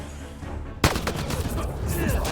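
A single sharp gunshot cracks out in a video game after a quiet lead-in, followed by a brief flurry of rattling shots and echoing combat noise.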